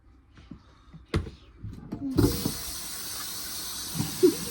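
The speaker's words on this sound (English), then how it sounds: "I'm gonna wash some forks for you guys." Forks being washed under a running kitchen tap: a few soft clinks and knocks at first, then the tap opens into a steady hiss of flowing water with occasional metallic taps of cutlery beneath it, close by.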